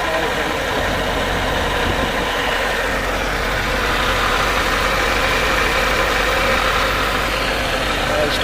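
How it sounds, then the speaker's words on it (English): A Suzuki Gypsy/Samurai engine with custom air conditioning and power steering idles with a steady, even rumble that holds constant, close and fairly loud. "I'll stop the engine now."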